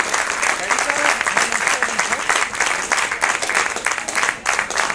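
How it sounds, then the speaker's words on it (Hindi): An audience at a school science festival in Uttarakhand breaks into dense, sustained applause for an honoree, a loud continuous wash of many hands with crowd noise mixed in. "तालियां बजाइए विनीता रावत जी के लिए।"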